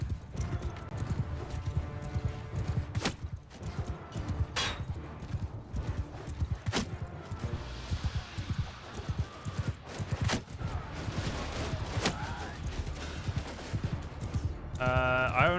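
Horse hoofbeats in Mount & Blade II: Bannerlord with the Realm of Thrones mod: a steady, busy clip-clop of galloping hooves runs throughout, close and continuous, with brief sharp battle clatter and a faint whinny near the end.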